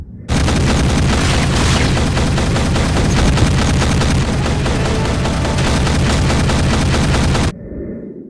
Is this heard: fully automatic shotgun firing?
yes